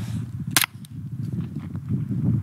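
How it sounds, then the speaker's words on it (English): A gun fired through a pillow at an outdoor range gives one sharp but muffled crack early on, followed by quieter shuffling and ambient noise. "that actually kind of suppresses the sound of a gunshot"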